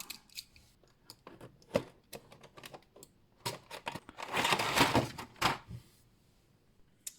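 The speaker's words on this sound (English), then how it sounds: "let's crack open our knife and let's cut into this packaging" A knife slices into plastic and cardboard packaging around a Dragon Ball GT Super Saiyan 4 Goku action figure, producing scattered close clicks and taps, then a denser burst of cutting and rustling that fades out.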